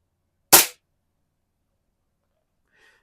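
A 1966 Walther LP53 target air pistol fires one sharp, loud crack that decays quickly into near silence.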